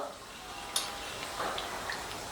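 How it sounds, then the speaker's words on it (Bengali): Tomatoes frying in a pan with spices give a steady, close sizzle, broken by a sharp utensil tick early on and a few light scraping stirs. "2 মিনিটের মতো টমেটোটাকে আমি ভেজে নিয়েছি, টমেটোর কাঁচা গন্ধ চলে গেছে"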